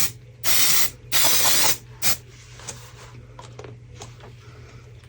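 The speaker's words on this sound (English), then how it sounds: "I'm going to give them a spray with the usual silicone release spray that I use" Two long hissing bursts of silicone release spray onto resin molds, then a short third puff, followed by quieter handling noises.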